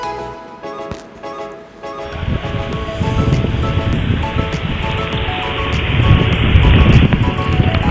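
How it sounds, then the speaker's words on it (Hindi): Strong cold wind gusts across Mahodand Lake in Swat, starting quieter and then roaring loudly and steadily against the microphone, with occasional sharp knocks. "आपको हवा की आवाज़ आ रही होगी और इससे आपको अंदाज़ा हो रहा होगा कि कितनी तेज़ हवा यहाँ पर चल रही थी"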